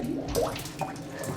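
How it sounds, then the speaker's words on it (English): Synthesized wet, bubbling water texture with gurgling swirls and a soft hiss, steady and moderately quiet, no voices. "like water texture here."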